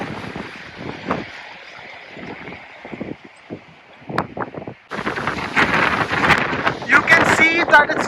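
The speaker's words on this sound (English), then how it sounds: "You can see that it's very, very windy today." Strong wind buffets the microphone in rough gusts on a hike up Scafell Pike in England, with a brief lull before louder, steadier roaring noise takes over for the second half.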